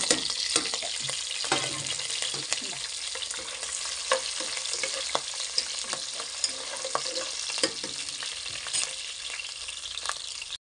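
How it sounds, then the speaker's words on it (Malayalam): Garlic and green chilies fry with ginger in a pan, a dense, steady sizzle and crackle close by, with occasional stirring clicks throughout and no talking. "നമുക്കതിനകത്തോട്ട് വെളുത്തുള്ളി ഇടാം. വെളുത്തുള്ളി പച്ചമുളകും കൂടെ ഇടാം."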